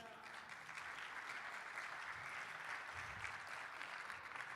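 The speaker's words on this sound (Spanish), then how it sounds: "un aplauso para que se anime" Sustained applause from a church congregation during a sermon, a dense wash of clapping that holds steady at moderate distance without letting up.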